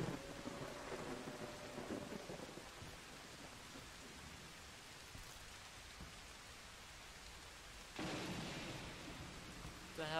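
A thunderstorm at night with steady rain on surfaces and low rumbling thunder, faint and distant, with a louder swell near the end.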